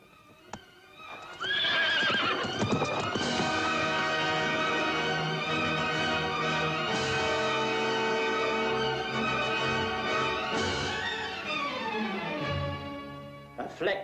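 A horse whinnies loudly and close, then hooves clip-clop steadily for several seconds before another neigh near the end.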